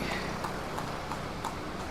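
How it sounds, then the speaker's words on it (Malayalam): Hooves of a horse-drawn carriage clip-clop in an even, steady rhythm on a street in Mysore, faint and somewhat distant under a broad layer of traffic and crowd noise. "ആ ഭാഗത്തു നിന്നായിട്ട് നമുക്കൊരു കുതിരവണ്ടി പോകുന്നതാണ് കേട്ടോ"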